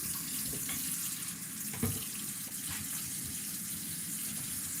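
Tap water running steadily to soak a Japanese water stone for sharpening, a continuous close gushing splash with a few small knocks.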